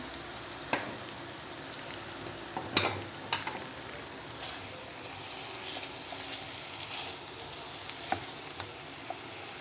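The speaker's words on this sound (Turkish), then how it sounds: "Kıymamız kavrulurken" Minced meat with chopped garlic fries in a pan for lasagne, giving a soft continuous sizzle with occasional faint pops and a few light stirring scrapes, fairly quiet and steady with no talk.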